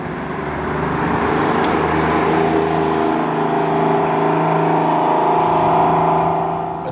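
A loud, sustained exhaust from a 1996 Porsche 993 Carrera 4S drones steadily and close, a deep rumbling engine note holding for several seconds.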